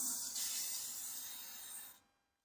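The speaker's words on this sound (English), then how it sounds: "is just give it a good spray" Oil-based deoxidizing spray applied to flood-damaged parts of an FGX Falcon car, one continuous close hiss lasting about two seconds before cutting off abruptly.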